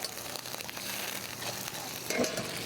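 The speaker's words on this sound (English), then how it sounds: "So don't be afraid, get that butter starting to melt." Butter melts in a hot pan for tableside New Orleans–style bananas Foster, giving a faint, continuous crackling sizzle with a few light scrapes and clinks near the end.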